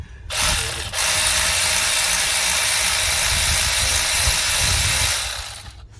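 Ratchet turning 8mm bolts on a 2005-07 Ford Super Duty V10 radiator, a rapid continuous clicking buzz from a close, loud ratchet that runs for about five seconds with a brief pause near the start, no talking.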